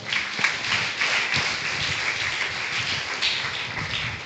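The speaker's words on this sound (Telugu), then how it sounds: "చప్పట్లు కొట్టండి." A church congregation at a Sunday worship service breaks into sustained applause, a dense, even wash of many hands clapping throughout, heard from within the crowd.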